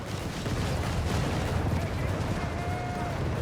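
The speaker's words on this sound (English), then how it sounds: "Howitzers there being prepared for DanielD." Howitzer artillery fire rumbles on a Company of Heroes 3 battlefield as a dense, continuous low roar with no distinct single blasts, under a talking voice throughout.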